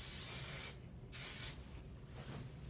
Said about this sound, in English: As soon as you spray it, you don't have that hairspray smell